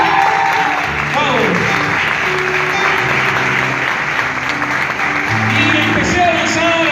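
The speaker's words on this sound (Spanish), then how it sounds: "Aplaudo al Señor en esta noche." A church congregation applauds the Lord at an evening service, loud sustained clapping with a voice speaking or calling out over it.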